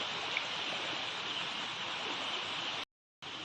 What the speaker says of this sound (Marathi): इकडे नदी ही बघा पाणी भरपूरच आहे